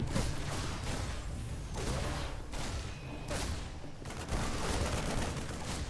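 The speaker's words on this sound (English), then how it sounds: "Reaper Grenade bops the Zealot over." StarCraft II battle noise during a Reaper grenade hitting a Zealot, dense rattling weapon fire and thumping impacts in rapid overlapping bursts, loud and continuous.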